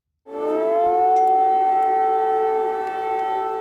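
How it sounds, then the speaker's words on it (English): A civil defense air raid siren in Kyiv rises abruptly and holds a loud, steady wailing tone, slightly wavering, sounding alone without voices. "air raid sirens rang out"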